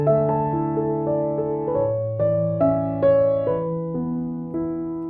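Piano chords played cleanly, all notes sounding together at even volume, a slow sequence of sustained chords struck one after another, close and clear with no talking.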